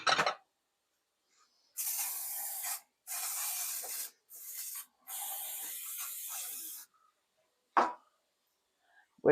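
Cooking spray is sprayed into a casserole dish in several close hissing bursts of one to two seconds each, separated by short pauses, with faint rubbing and clicks around them.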